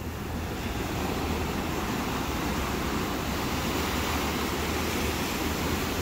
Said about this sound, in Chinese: 感觉这边的浪好像会打上来。